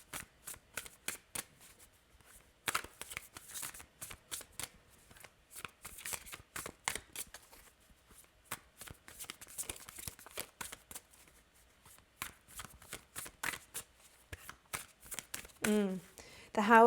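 Tarot cards shuffled by hand for a reading, soft riffling and flicking in quick bursts with short pauses, faint and close, and a voice speaks briefly near the end.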